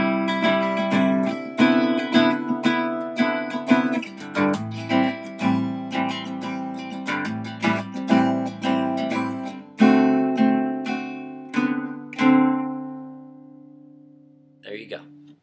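An acoustic guitar plays part B of a song, a strummed chord progression with a small walk-up, close and clear, chords ringing one after another before a last chord fades out.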